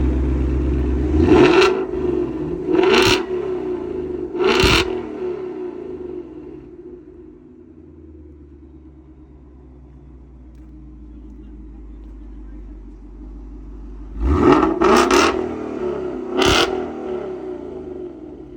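A 2019 Ford Mustang GT with a Coyote V8 idles with a low rumble, punctuated by three sharp revs, a lull, then three more loud blips up close.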